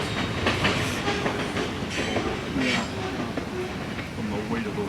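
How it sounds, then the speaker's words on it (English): A train rolls out of a small town in Idaho, its wheels clacking in a steady rhythm over the rail joints, with a low rumble of cars and occasional faint voices underneath. "And there goes the train heading out of town."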